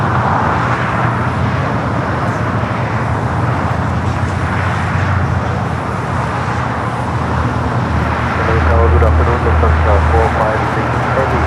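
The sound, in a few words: Boeing 777 airliner taking off at LAX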